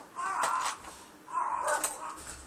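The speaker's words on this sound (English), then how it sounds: "Sorry about the dogs barking." Dogs bark in the background, two short, somewhat distant bursts of barking and yipping in an otherwise quiet room.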